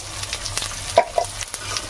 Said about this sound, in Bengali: প্রথমে জিরেটা তেলের পর দিয়েছি। জিরেটা একটু হালকা করে ভালো করে নেড়ে নেব।